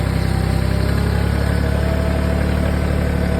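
The engine of a Kioti CK2610 tractor, a 35 hp unit detuned to 25 hp, runs steadily under load in high range with the RPMs raised, giving a close, even mechanical drone with a fast pulsing beat.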